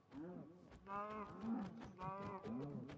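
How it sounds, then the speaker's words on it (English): Cows in the Minecraft video game moo repeatedly, several drawn-out, nasal bellows in a row, loud and close with no talk over them. "The cow sound like they say no."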